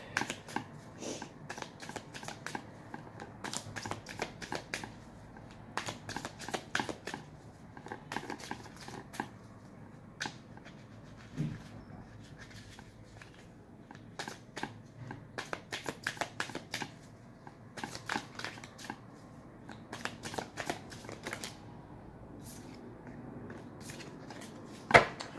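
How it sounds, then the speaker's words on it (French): Tarot cards being shuffled by hand during a reading, a busy run of soft riffling and flicking bursts with short pauses, close and fairly quiet, no talking. "Je vais mélanger"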